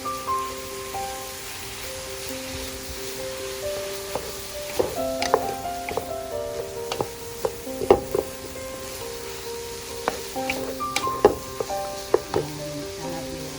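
A special sauce for spaghetti and meatballs is mixed in a pan, with a steady sizzle underneath and a run of irregular scraping and clacking strokes from stirring, close and moderately loud.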